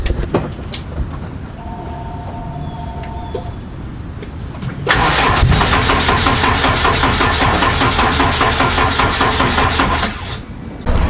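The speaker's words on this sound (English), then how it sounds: "But we're gonna start her up, see how she does." An all-wheel-drive Honda Accord with freshly welded exhaust cranks and catches, then settles into a loud, steady rumbling idle outdoors on a rainy day, close up and without talk.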